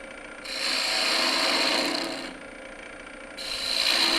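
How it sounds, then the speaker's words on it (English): A spindle gouge scrapes across turning wood while shaping a potpourri disk on a lathe, giving a steady rasping hiss in two passes with a short quieter gap between them, close and fairly loud. "take a spindle gouge to remove that because I think it's gonna be waste"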